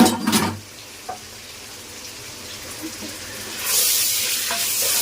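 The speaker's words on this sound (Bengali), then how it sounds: "এখন দিয়ে দিলাম একটু আদা রসুন বাটা" Ginger-garlic paste hits a pot of bottle gourd greens with shrimp on an induction cooker, giving brief clatters and a soft fry that swells into a loud, steady sizzle near the end.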